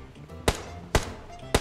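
A grenade thrown in the PUBG Mobile battle game: three sharp, fairly loud thumping impacts spaced about half a second apart, standing out against quiet background game ambience.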